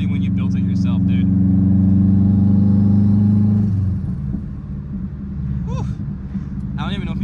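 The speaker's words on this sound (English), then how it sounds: "turbo flutter, the wastegate, and the blow-off valve" A 2.5-litre engine-swapped Subaru WRX rumbles loudly, then drops off as the throttle lifts, followed by fluttering turbo chirps and hissy wastegate and blow-off valve releases.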